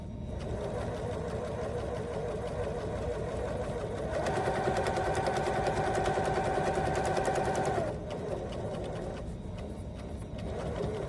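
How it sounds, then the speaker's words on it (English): A sewing machine stitches binding along the edge of a quilt, running steadily throughout with a faster, louder burst of stitching in the middle before easing back to a slower, steady hum. "Sew down the side once more so that the binding is attached to the quilt in one continuous line"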